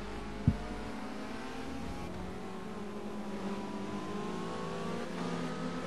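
A touring race car in the ATCC at the Nürburgring GP braking into a hairpin, with a steady engine drone holding and shifting pitch under a brief thump, no voices.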